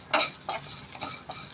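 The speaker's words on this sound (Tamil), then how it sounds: "இப்போ பாருங்கள், பச்சை மிளகாய் இஞ்சி எல்லாமே ஓரளவுக்கு வதங்கிடுச்சு" Green chili, ginger and shallots are stirred and sautéed in a pan, with a utensil scraping in a few quick strokes over a faint, soft sizzle, close up and brief.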